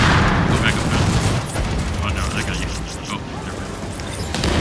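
Gunfire in a wave-based shooter video game on hard mode, steady rattling shots and mechanical clatter loud throughout, with voices talking over it.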